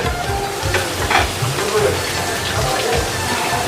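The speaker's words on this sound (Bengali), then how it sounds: "আর দেখেন মাছ ফ্রাই করে দিচ্ছে" Fish sizzles in hot oil at a fish restaurant in Azampur market, a steady frying hiss with stirring, mixed with busy surrounding chatter and voices nearby.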